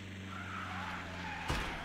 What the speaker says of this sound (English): Yeah, we can drift.